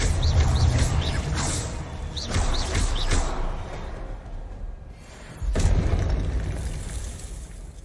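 A spell cast in the Hogwarts Legacy video game, heard as a string of loud bursts and thumps that comes in waves with a brief lull before a final swell, over constant game ambience.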